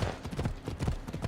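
Horse hooves clip-clop in a steady, repeated rhythm in a video game, fairly close and continuous for about a second, with a faint voice mixed in.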